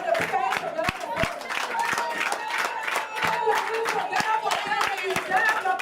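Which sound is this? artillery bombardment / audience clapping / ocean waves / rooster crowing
audience clapping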